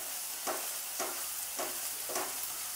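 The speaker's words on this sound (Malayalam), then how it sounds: "ഇനി ഇവയെല്ലാം ചേർത്ത് നന്നായി വഴറ്റിയെടുക്കാം" Chilli powder, pepper and garam masala being sautéed in a pan for a green peas masala, a steady sizzle with four evenly spaced scraping stir strokes, close and alone.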